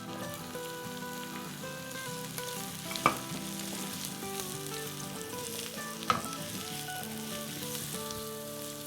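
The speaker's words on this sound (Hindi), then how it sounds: "अब हम इसमें अपना स्लाइस किया हुआ अनियन डालते" Sliced onion sizzles steadily in hot oil in a pan, a dense continuous crackle with a couple of sharper spatters and clinks partway through, close and fairly quiet.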